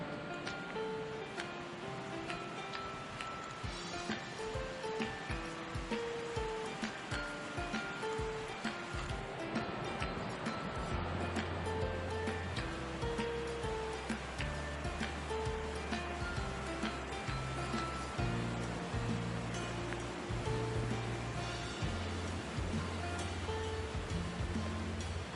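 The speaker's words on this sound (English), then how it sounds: "Okay, the waterfall is just up ahead." Cataract Falls in the Smoky Mountains pours in a steady, broad rush of falling water that holds a constant level, close and full throughout with no voices.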